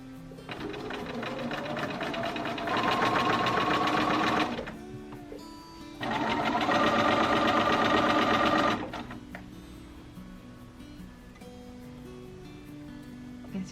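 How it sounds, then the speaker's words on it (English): A sewing machine top stitches a folded fabric hem on a maternity dress, running in two steady buzzing bursts of a few seconds each with a pause between, then quiet room tone. "I'm just going to fold it once and then top stitch it."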